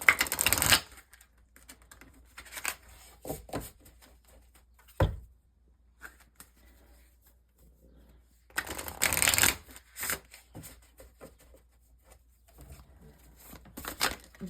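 Two bursts of tarot card shuffling, a short riffle at the start and a longer one midway, with soft handling and tapping of cards in between.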